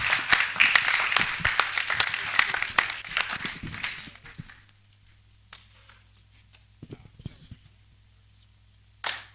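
Audience clapping fills a conference hall for about four seconds of dense, loud applause, then trails off into a few scattered claps and quiet room noise.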